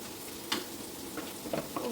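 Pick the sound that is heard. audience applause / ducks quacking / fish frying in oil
fish frying in oil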